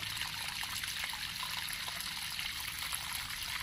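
Waterfall on Havelock Island, a steady rushing murmur of flowing water that stays even and unbroken throughout, fairly close with no voices.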